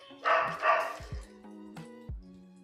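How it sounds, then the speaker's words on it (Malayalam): A dog barks twice in quick succession near the mic, then gives a couple of softer yips with short pauses, somewhere near a home garden while plants are being watered. "പട്ടി"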